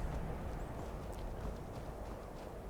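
A horse's hooves clip-clop in the video game Skyrim, a steady muffled patter of steps beneath a dense, noisy game soundscape, fairly faint and continuous throughout.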